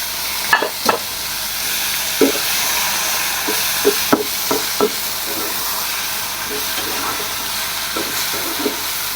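Taro leaves fry in oil in a pan, making a steady loud sizzle broken by scattered clinks and scrapes of stirring, with no talk.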